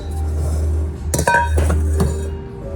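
Metal utensils clink against a bowl while lemon biscotti batter with almonds and dried cranberries is mixed, a few sharp close clinks over a low steady hum.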